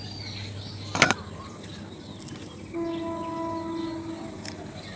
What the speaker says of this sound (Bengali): এখন ট্রেনের আওয়াজ শোনা গেল,